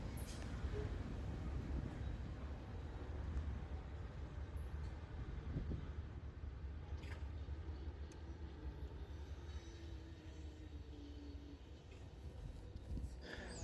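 A southbound GE 30T locomotive rumbles past with a heavy, steady low drone and faint metallic rail sounds, fairly distant and continuous, with no voices.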